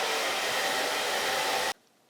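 A hair dryer running on a portable power station, a loud steady blowing roar that cuts off abruptly near the end, leaving quiet room tone.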